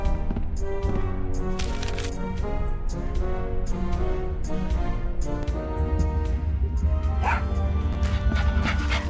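A cartoonish dog in the Tales of Monkey Island video game yips, barks and whimpers in quick repeated bursts over a steady bed of game music, loud and close throughout.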